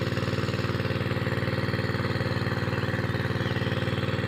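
Engine-driven water pump running steadily while pumping water onto grass, a constant rhythmic chugging drone at close range with no talk.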